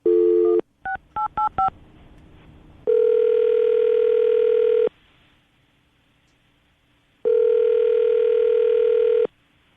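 A phone number is dialed: a quick run of touch-tone beeps, then two long ringback tones separated by a pause, heard close and clear with no one talking.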